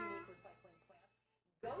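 A house cat gives a couple of short, quiet, tonal meows at close range, with a brief pause before a louder final cry.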